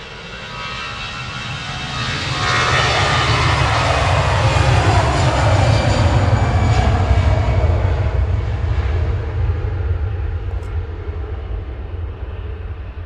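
Airliner jet engines spooling up at Manchester Airport, a deep roar building over the first few seconds to a loud sustained rush with a rising whine, then easing slightly, heard from a distance without talk.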